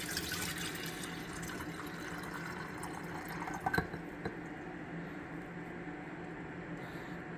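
Quiet trickling water poured into a tea kettle, a soft continuous splashing stream with a few small clinks near the middle.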